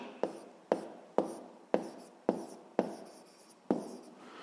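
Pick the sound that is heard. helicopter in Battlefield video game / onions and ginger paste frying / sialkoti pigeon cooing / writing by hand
writing by hand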